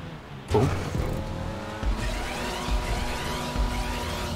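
A stock car racing in GTA 5 Online roars steadily with engine drone, a sharp bump or scrape near the start and periodic thuds from the track, no talk.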